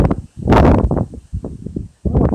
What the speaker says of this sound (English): it sure is windy today, so that's gonna mess with the sound quality